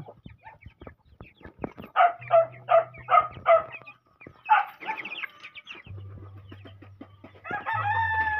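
Several chickens cluck in a quick rhythmic series, followed by more scattered clucks and squawks nearby, with some background noise and a low hum.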